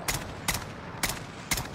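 Gunfire in Call of Duty Modern Warfare: four separate sharp shots spaced roughly half a second apart, moderately distant and fairly quiet, with no talking over them.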